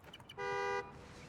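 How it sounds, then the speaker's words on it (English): A car horn in a video game gives one steady, clean honk lasting under half a second, heard alone at moderate volume over quiet game ambience. "Follow the honk."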